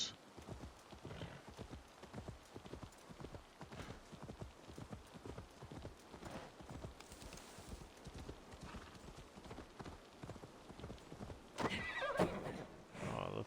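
Steady rapid hoofbeats of a galloping horse in the video game Assassin's Creed Valhalla, close and continuous, with a brief whinny near the end.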